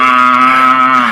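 A person imitates a cow's moo with one short, steady low drone, loud and close, no other sound around it.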